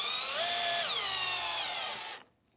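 A power drill spins up and drives a stainless steel automotive screw, a steady whining motor tone that dips in pitch under load, close and fairly loud for about two seconds before cutting off abruptly.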